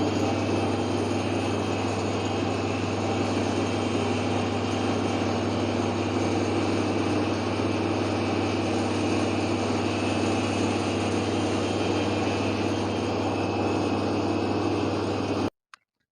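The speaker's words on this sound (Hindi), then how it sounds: "गाइस, ये जो है अब ग्राइंडर इनका चल पड़ा है, मिर्चें ग्राइंड होंगी" A factory grinder runs steadily while grinding chillies at a nimko snack plant, a loud, constant mechanical drone with a strong low hum that continues unbroken for about fifteen seconds before cutting off abruptly.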